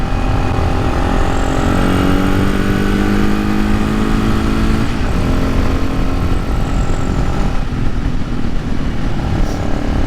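A carbureted Supermoto motorcycle engine runs loud and close, a dense continuous drone with rising and falling pitch as it revs and settles, steady throughout with no voices.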